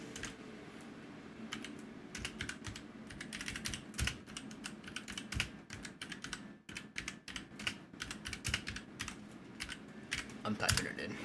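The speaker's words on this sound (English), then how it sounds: "I'm typing it in." Steady clatter of typing on a computer keyboard, with quick irregular keystroke bursts throughout, fairly close, over a low background murmur of talk.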